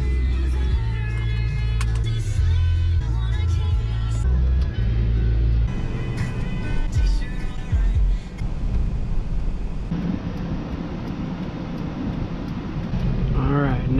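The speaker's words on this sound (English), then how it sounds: "Take you for a lap around the Nashville street course" A car drives a lap of the Nashville IndyCar street course, its engine droning steadily and loudly up close throughout, with gear changes shifting the tone and wind rushing past, all without speech.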